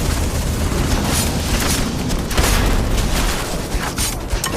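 Grenade explosions in the video game Starfield, a dense, continuous barrage of booming blasts and crackling bursts that stays loud throughout, with no pause between detonations.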